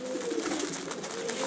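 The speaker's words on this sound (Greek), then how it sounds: "Το περιστέρι αυτό" Greek Outzidika pigeons near Karditsa coo softly and continuously, a low steady murmur heard close by under a faint airy background hiss.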